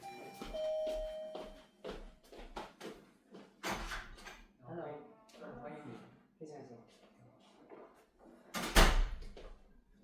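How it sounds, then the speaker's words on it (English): A hotel room doorbell in Qingdao gives a short chime, followed later by a sharp clunk as the door opens, with a person talking for most of the time. "they rang on my doorbell to bring me some gifts"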